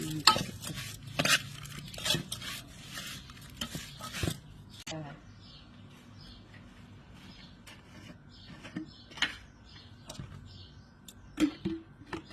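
Fermented fish and roasted rice are stirred and mixed in a kitchen, with sharp clinks of a utensil against a pot or bowl and soft scraping, busier at first, then sparser and quiet.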